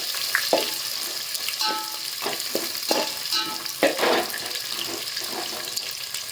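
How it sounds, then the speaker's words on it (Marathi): Chopped onion frying in oil in a pan for prawn rice, a loud close sizzle with repeated scraping stirs and clanks from a utensil, no voices. "कांदा चांगला फ्राय होऊ देते"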